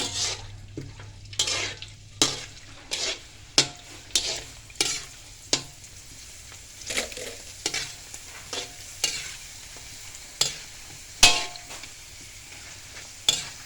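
Purple sweet potato and potato crackers frying in hot oil, a steady faint sizzle under repeated sharp scraping and stirring clinks from a utensil against the pan.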